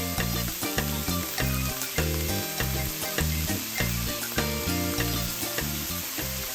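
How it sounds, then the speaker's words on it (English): Cooked meat filling with salt, pepper, parsley and olives is stirred in a hot pan. A steady sizzle runs under regular, rhythmic scraping strokes, with no voices. "Stir well."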